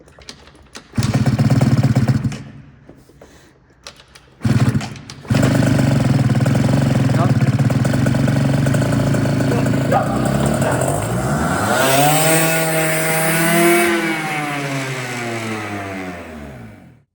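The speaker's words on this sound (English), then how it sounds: "As you can see, my Aerox started for the very first time." A Yamaha Aerox 70cc moped engine runs just after its first start, idling with a rough, buzzing note before revving up and down in rising and falling sweeps, loud and close after a few brief bursts.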